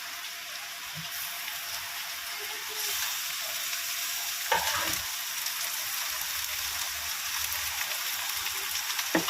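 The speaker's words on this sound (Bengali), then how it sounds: "আলুটাও অর্ধেক ভাজা হয়েছে, এবার আমি মাংসটা দিয়ে ভাজবো।" Minced chicken fries with half-cooked potatoes and onions in a pan, a loud steady hiss that grows stronger partway through, with a few soft knocks of stirring and no voices.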